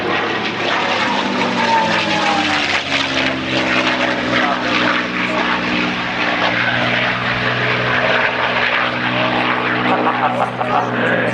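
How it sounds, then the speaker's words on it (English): A P-51 Mustang World War II fighter plane flies at an airshow, its propeller engine a loud, continuous droning roar that holds steady throughout. "If you were a P-51 mechanic or if you were a P-51 pilot, this was the most important fighter of all of World War II."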